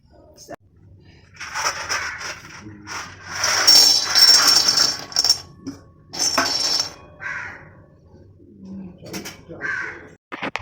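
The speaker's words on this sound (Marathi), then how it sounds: "सकाळी सकाळी पक्ष्यांचा किलबिलाट ऐकून मन तर प्रसन्न झालं होतं" Birds calling nearby in the morning, mainly harsh crow caws with some softer cooing, in bursts separated by short pauses.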